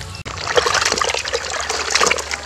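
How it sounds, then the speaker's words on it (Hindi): Ridge gourd (chichinda) is rinsed by hand in water, giving close, continuous trickling and light splashing over a couple of seconds. "तो एक पानी हम और धो लेते हैं इसके।"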